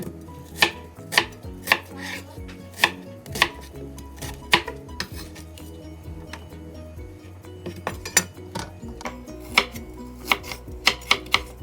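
Onions chopped with a knife on a board for a chicken curry, a steady series of sharp close knock-and-slice strokes in uneven bursts, with light clinks of utensils, no voices.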